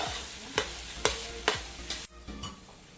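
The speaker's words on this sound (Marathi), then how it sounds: "आता मसाला घातल्यानंतर छान परतून झालेला आहे" Masala paste for matki bhaji being stir-fried in a pan, a continuous sizzle broken by several sharp scraping knocks of the spatula against the pan at roughly half-second intervals.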